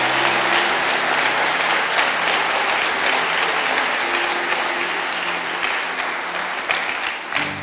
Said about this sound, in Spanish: Démosle un fuerte aplauso al Señor por eso.